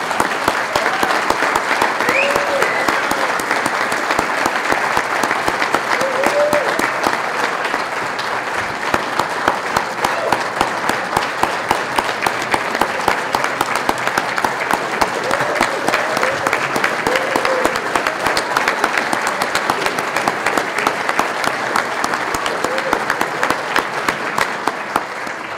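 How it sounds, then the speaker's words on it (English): A large audience gives a sustained, loud round of applause after a speech at a professional association gathering, dense steady clapping filling the room for the whole stretch with no break. "I think we all owe her another big round of applause."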